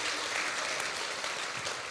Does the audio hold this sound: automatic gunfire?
no